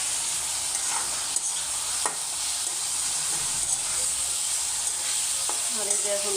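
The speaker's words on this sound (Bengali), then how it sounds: "পেঁয়াজগুলো লাল লাল করে ভাজি করে নিব" Onions stirred and fried in oil in a pan sizzle steadily and close by, with spatula scrapes and clinks at irregular intervals.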